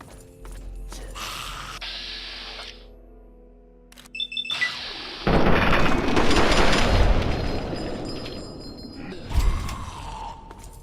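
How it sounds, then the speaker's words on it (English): Automated turrets fight ghouls in Fallout 3, with mechanical whirs, bursts of gunfire and booming impacts building into a loud, dense clash of game combat in the middle, then fading to tonal game effects. "Turrets fighting the ghouls."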